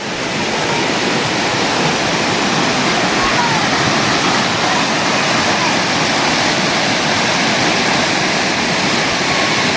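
Loud, continuous rush of a waterfall near Chindar, Malvan, Sindhudurg, a dense steady roar with no breaks.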